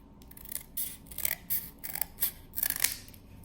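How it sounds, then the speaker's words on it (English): Scissors snip through a scrap of cardboard, cutting small pillars for a toy cardboard town: about seven short, crisp cuts in an uneven rhythm, close and fairly quiet, with no talking. "cut a few cardboard pillars"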